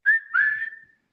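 A whistle sounds close and loud in two blasts, a short shrill toot followed by a longer sustained one that trails off, with no talking.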